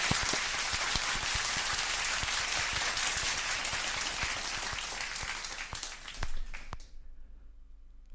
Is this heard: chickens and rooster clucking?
no